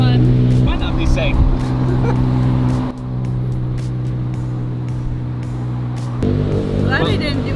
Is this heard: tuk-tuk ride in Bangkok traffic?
yes